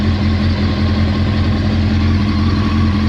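A 893cc Honda CBR900RR FireBlade (SC28) motorcycle engine idles steadily and loudly up close, a smooth continuous low rumble with no talk over it.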